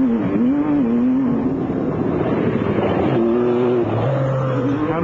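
A race car engine held at full throttle on a circuit, a loud continuous drone with steady pitch that shifts slightly as gears change, close and alone without talk.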